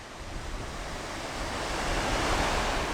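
A stream rushes through a tunnel under a bridge at a camping spot. The water gives a steady, broadband roar that grows slightly louder partway through, with no voices.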